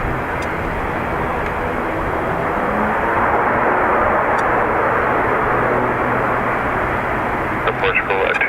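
Aircraft departing from Dublin Airport, its engine roar a steady, loud, broadband rush that fills the whole stretch without easing, with a voice talking faintly over the noise.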